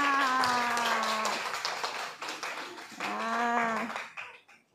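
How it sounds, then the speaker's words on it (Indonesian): A school class claps together for everyone, quick bursts of hand claps mixed with children's voices calling out in a chant-like pattern, pausing briefly and then resuming before it stops. "Baik, tepuk tangan untuk kita semua."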